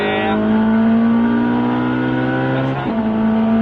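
A race car accelerates hard around the Albi circuit, its engine tone whining loud and close through the gears, then briefly dipping at a shift before rising again.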